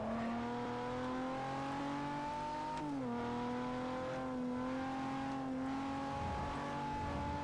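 Car engine in Forza Motorsport 4 holds a steady droning tone that dips and shifts while attempting a drift, continuous and close with no talk.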